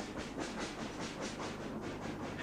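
Steam locomotive Manning on the Isle of Man railway climbs past Nunnery Bridge on the 1-in-65 Nunnery Bank with a heavy train, giving a steady rhythmic chuffing and hiss, moderately loud and continuous, with no talk.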